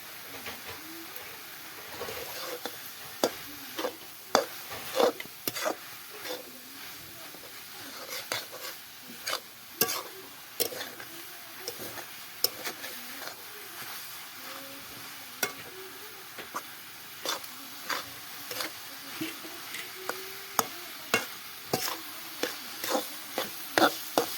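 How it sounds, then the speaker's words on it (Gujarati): Chopped bottle gourd roasting in fresh ghee in a pan, giving a steady soft sizzle with frequent sharp clicks and scrapes of stirring throughout, close and moderately quiet, with no talking. "આપણે ઘીમાં દૂધી શેકાઈ ગઈ છે"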